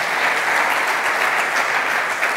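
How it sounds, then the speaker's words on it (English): An audience at a talk on crafting custom Android views applauds the organizers, a dense, steady wash of clapping from many hands that holds evenly throughout, close and loud. "You can probably applaud the organizer."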